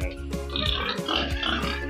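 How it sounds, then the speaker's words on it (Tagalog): Pet pigs grunt and oink at feeding time, several low snorts overlapping up close with a few higher squeals mixed in. "Papakainin mo natin ating mga alagang baboy"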